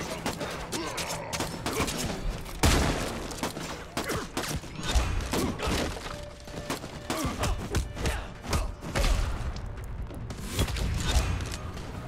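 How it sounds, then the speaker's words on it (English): Rapid bursts of gunfire and shotgun blasts in the video game Redeemer, loud and dense, with thuds and impacts crowding together across the whole stretch and no talking. "How many shots do I have this shotgun?"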